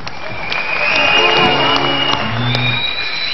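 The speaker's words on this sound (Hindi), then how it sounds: "आइए दोनों भाइयों के लिए तालियां।" Studio audience on a Pakistani game show breaks into steady, dense applause with some cheering, loud and continuous throughout.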